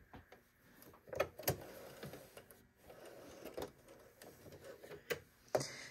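A freshly oiled sewing machine runs quietly in uneven spurts, giving soft ticking and clacking stitch sounds with sharper clicks here and there, fairly close and without talk.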